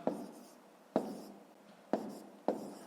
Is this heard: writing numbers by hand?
yes